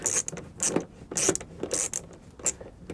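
A bolt being tightened on a molded splash mud guard during a GM accessory install on a Cadillac, Chevy or GMC: several short metallic ratcheting bursts in an uneven rhythm, close and clear with no talking.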